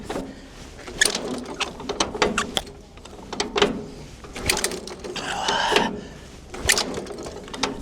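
The engine of a 1930s Caterpillar RD6 bulldozer is cranked by hand, giving rhythmic mechanical clanks and ratcheting clicks from gears and linkage, close and uneven in loudness.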